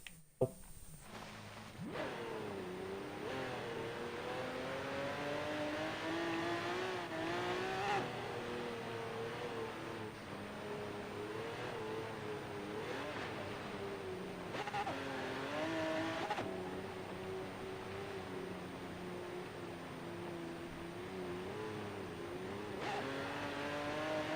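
A Force Gurkha in a racing video game drives fast with all-wheel drive toward an ice lake, its engine note revving and rising steadily and continuously throughout, with brief tire noise.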